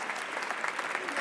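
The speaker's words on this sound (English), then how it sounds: "Clapping?" A live audience claps steadily and densely, a continuous wash of applause that neither builds nor fades, at fairly close range.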